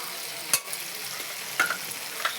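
Ginger-garlic paste frying in a pan with jackfruit and prawns, a steady soft sizzle broken by three brief spatula clinks and stirs, no voices.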